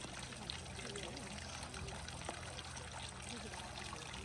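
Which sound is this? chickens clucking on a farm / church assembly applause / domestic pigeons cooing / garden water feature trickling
garden water feature trickling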